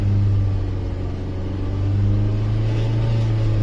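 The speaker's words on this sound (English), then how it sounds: "You give it more RPM," A 1998 Mazda Protege 1.5L four-cylinder revved up and held at high RPM, a steady loud engine drone with a strong low hum that swells slightly toward the end, no voices.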